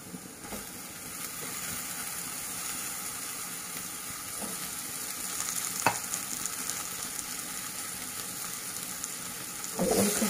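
Dried sangri is mixed and stirred in a pan for a dahi sangri sabzi, producing a continuous soft sizzle with occasional scraping knocks of the spoon, fairly quiet and without speech.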